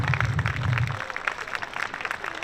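Applause from an audience at a village summer festival for elderly residents in Kehtna, a dense, steady patter of many hands clapping throughout, with a low hum early on.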